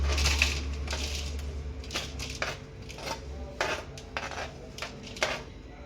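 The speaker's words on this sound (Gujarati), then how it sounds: "તો અહીંયા આપણે એક બાઉલ લીધું છે, એમાં આપણે મરચાં એડ કરી દઈશું" Chillies dropped and tumbled into a bowl while preparing batter for chilli ring bhajiya, a run of light clinks and taps on the bowl at an irregular pace, close by with a low hum underneath.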